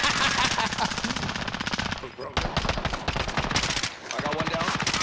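Sustained automatic gunfire from a Call of Duty Warzone match rattles in rapid, dense bursts with only brief gaps, loud and close, while players talk over it.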